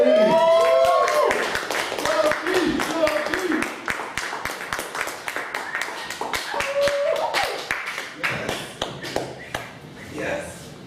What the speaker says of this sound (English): a warm round of applause for your next very funny comic.